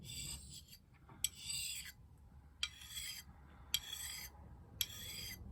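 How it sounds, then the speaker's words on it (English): A TOPS Tom Brown Tracker knife edge being sharpened, with five separate rasping strokes spaced about a second apart, each ending in a small click, quiet and close with no voices. "You can use it just to sharpen up an edge."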